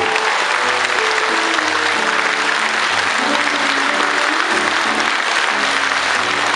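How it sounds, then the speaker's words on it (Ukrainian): Audience applause at a band concert in Zvenyhorodka: dense, steady clapping fills the whole stretch at close range, with faint low musical tones underneath. "Ще раз оплески для тата, для мами особливо."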